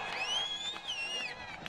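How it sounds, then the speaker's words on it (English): A crowd at a Summernats car burnout event cheers with high whistles and whoops that rise and fall over a steady roar, heard from a distance for a couple of seconds. "Listen to the crowd."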